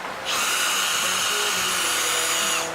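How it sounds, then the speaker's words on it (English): A power drill whirs continuously on a stripped headlight screw of a Chevy C10, spinning up sharply and holding a steady high whine for a couple of seconds before cutting off. "as you can see when I put the drill on it, it just spins"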